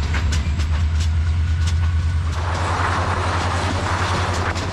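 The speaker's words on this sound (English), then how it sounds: "It would be a challenge trying to get much sleep next to this loud diesel locomotive" A loud diesel locomotive hauls an old overnight train through Romania near dusk, its heavy engine drone steady and close with rhythmic rumbling throughout.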